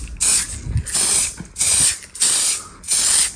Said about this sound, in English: I'm going to spray a super thin coat just to absorb into the acetone